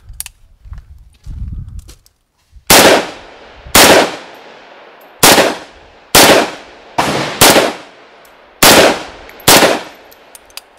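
A gun fitted with a red dot sight fires at targets outdoors, giving eight sharp, loud reports at irregular intervals of about one second. Each report has a ringing decay, and faint handling sounds come first.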